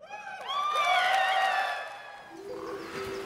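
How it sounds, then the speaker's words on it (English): A crowd at a Gamescom event cheers and whoops for a Monster Hunter trailer, a short loud burst of voices rising and fading over a few seconds. "the crowd loved Monster Hunter. You could hear it."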